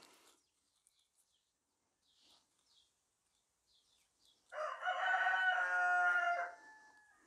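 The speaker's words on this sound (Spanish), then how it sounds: "Odio a mi gallo." A rooster crows once, a loud, drawn-out cock-a-doodle-doo lasting about two seconds in the latter half, after near silence with a few faint rustles.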